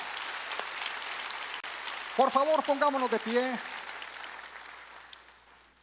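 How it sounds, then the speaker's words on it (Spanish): A church congregation applauds the King during a worship service, a steady wash of clapping that holds throughout and sits beneath a voice speaking over it midway. "¿Puedes darle el mejor aplauso al Rey?"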